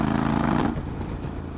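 A 2019 Honda X-ADV 750 with an aftermarket R9 exhaust rumbles nearby with a deep, throaty note, rising briefly before settling back to a steady idle.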